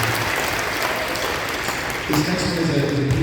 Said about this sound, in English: One more round of applause for everybody that's soloed.